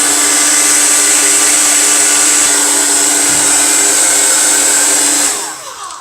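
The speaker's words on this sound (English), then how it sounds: "I'm going to take my hair dryer, and I'm going to dry this" A hair dryer blows loudly and steadily at close range with a high whine, drying makeup, then cuts off near the end.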